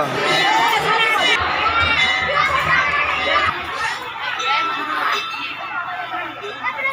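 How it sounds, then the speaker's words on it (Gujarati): Crowd at a Ramapir temple festival, dense chatter, shouts and clinks close around, with people talking throughout. "ભીડ એટલી બધી છે."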